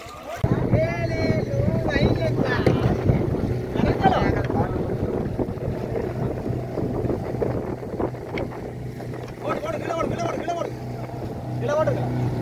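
Boats, including traditional sailboats, set out across the sea off Araly, Jaffna, during a boat race, with a steady engine-like drone and wind rumble running throughout while people talk over it.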